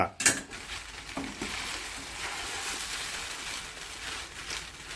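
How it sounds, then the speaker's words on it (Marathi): Sabudana fries and is stirred in a thin-bottomed kadhai, a steady soft sizzle with a sharp clank of the spoon at the start and light scraping throughout, no talk. "त्याला सारखं हलवत राहावं लागतं ते तर खालून लगेच लागून जात"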